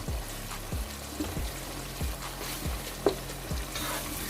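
Fish masala spices fry in a pan, a soft steady sizzle broken by regular scraping strokes of a spoon about every half second, fairly quiet and close with no talking.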